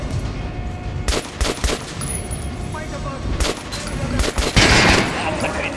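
Gunfire at an armored enemy in Metro: Last Light, with repeated loud, close bursts and single shots of varying spacing over steady game noise, and a voice talking faintly at times.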